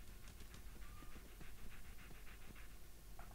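Dog panting in the Fallout 4 video game, a steady soft rapid breathing rhythm held throughout against a faint continuous background hum, fairly quiet and close.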